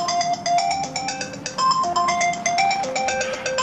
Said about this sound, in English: I gotta call Alan first